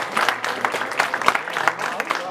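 An audience at a birthday party applauds in a brief burst of quick, dense clapping, fairly close and loud.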